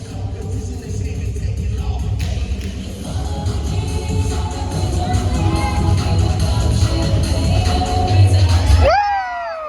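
A cheerleading team's competition routine in a school gym, with a loud crowd cheering, whooping and shouting throughout, music and thuds underneath, ending in a sudden cutoff.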